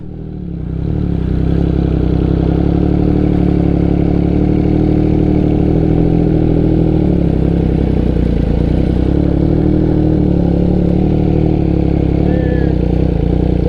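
An MV Agusta F3 sport motorcycle idles steadily up close at a car meet, a continuous mid-pitched engine rumble with faint clatter and some background voices.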